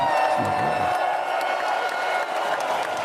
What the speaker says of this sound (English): let's give a hand clap for mom first